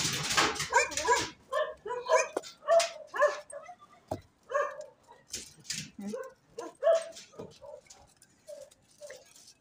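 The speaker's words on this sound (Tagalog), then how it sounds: "may kasama ko si Shadow. Yung aso ng kapatid ko" Shadow, a pet dog in Upper Kalaklan, Olongapo, gives a rapid run of close barks and yips, then scattered whimpers and softer barks, with a person talking now and then.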